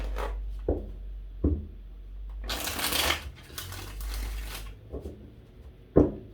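Tarot cards being shuffled, a series of crisp riffles and bursts of card noise with brief pauses between them, close up and alone.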